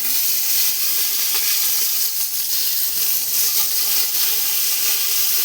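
Whole biryani spices, nutmeg, mace and shahjeera, sizzle in hot oil with a loud, steady hiss and fine crackle that holds constant from start to finish, close and uninterrupted, with no talking.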